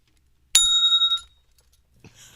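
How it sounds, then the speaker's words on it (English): Bicycle-style bell rung right against the microphone, giving one loud bright ring with a quickly fading wavering tail, followed by faint background noise. "I had to put the bell all the way to the microphone"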